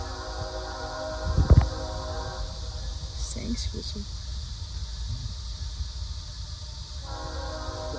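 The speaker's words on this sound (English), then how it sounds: "can you hear the train?" A train passes near a parking area by some levees. A low rolling rumble runs steadily throughout, with a brief horn blast near the start, while a person talks briefly over it.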